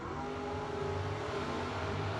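A drag race car accelerates hard, pulling its front wheels up in a wheelie at a drag racing event, making a steady, moderately distant engine roar that holds throughout with no voices.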